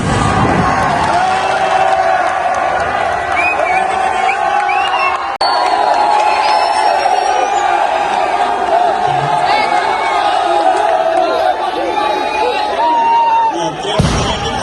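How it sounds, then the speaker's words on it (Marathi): A crowd cheers and shouts loudly at a Dahi Handi practice session where a Govinda team builds human pyramids, with continuous, excited whoops and cries, whistles and people talking throughout. "जल्लोष बघा, जल्लोष बघा."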